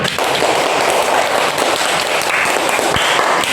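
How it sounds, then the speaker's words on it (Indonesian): Steady, dense applause from a crowd fills the whole moment, loud and sustained without pause. "Tepuk tangan untuk kelompok 1."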